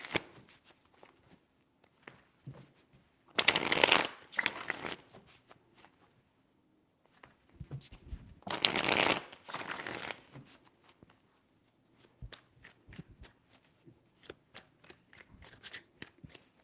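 Tarot cards being shuffled by hand in two loud riffling bursts, with scattered softer taps and card handling between them, close up and without speech.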